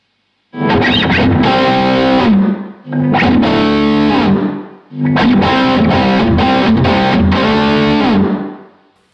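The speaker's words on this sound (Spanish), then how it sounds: "Ahora voy a utilizar el exceso de la reverb" Electric guitar played loud and distorted through a Blackstar HT MK III amp with heavy reverb, three sustained strummed phrases washing into long reverb tails, with no talking.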